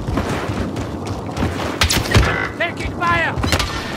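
Battle gunfire in Call of Duty: Warzone, a mix of close shots, thumps and distant bursts over a busy combat background, with bright whizzing and ricochet-like streaks in the second half.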